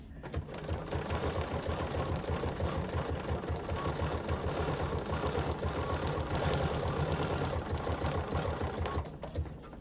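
A sewing machine runs a straight stitch on a notepad holder project, giving a fast, even mechanical whir and rapid needle chatter. It runs close and continuously for nearly ten seconds, then stops.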